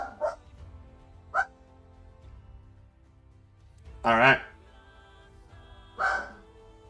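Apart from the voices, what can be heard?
dog barking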